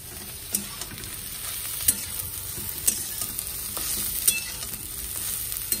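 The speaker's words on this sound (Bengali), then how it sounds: "একটু ভাজা ভাজা করে নেবো, তারপরে আলুগুলো দেবো।" Boneless meat frying in a pan before potatoes are added, giving a steady close sizzle broken by periodic scraping clinks of a stirring utensil.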